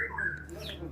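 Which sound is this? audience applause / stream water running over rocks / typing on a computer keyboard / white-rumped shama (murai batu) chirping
white-rumped shama (murai batu) chirping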